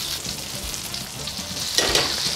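Oil in a frying pan sizzles and crackles as liquid cooks off, a continuous bubbling hiss that briefly swells louder toward the end, with no talk.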